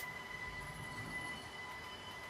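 A Jägerndorfer JC Ventus city jet model train pulls away from platform 4 and builds speed, a faint, steady whirring hum with thin high whine and no voices.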